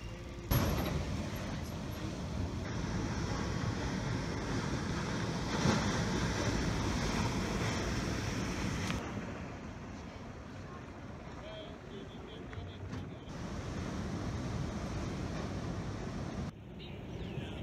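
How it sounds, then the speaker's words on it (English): Big surf waves break at Teahupoo beach in Tahiti, a sustained washing roar of surf heard from the shore with gusty wind buffeting the microphone and a dip in level partway through. "Here's the big wave where they have the big surf competitions."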